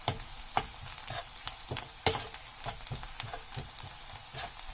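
Onions frying in a pan for Sindhi-style anda bhurji, with steady soft sizzling and repeated scraping and stirring clicks from a spatula, close and moderately quiet, no talking.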